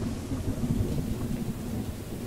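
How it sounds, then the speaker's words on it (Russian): Rain pours steadily with a low rumbling of thunder in the Choo-Choo Charles video game, a dense continuous wash without speech. "Блин, дождь еще этот идет, блин."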